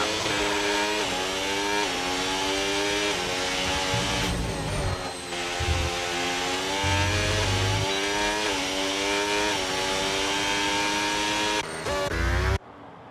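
Onboard race car engines from a racing video game scream at high revs, rising through gears with brief lifts and downshifts, loud and continuous.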